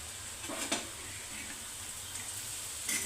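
Liver fry sizzles steadily in a hot pan as crushed garlic goes in, a constant close hiss with a few soft clicks of stirring and utensil taps.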